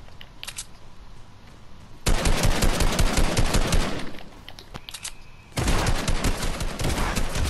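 Loud, sustained automatic gunfire from the Fortnite video game, in two long rapid bursts separated by a quieter gap with a few scattered shots, close and dense with no talking.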